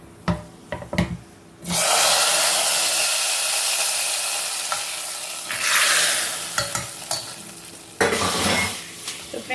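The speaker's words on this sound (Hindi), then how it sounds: "अब ये तड़का हम दाल में डाल देंगे।" Loud sizzling bursts out as hot oil tempering is poured into mixed dal, hissing strongly for several seconds, then fading, with stirring and clinking around it.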